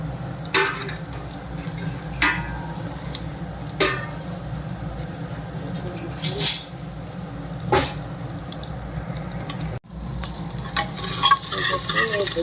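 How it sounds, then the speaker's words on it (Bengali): Lentils (dal) fry with cumin inside a pressure cooker, a steady close sizzle punctuated by regular scraping stirs of a spoon against metal roughly every second or two. "অল্প জিরে দিয়ে এই ডালটা আমি এখন ভেজে নিচ্ছি"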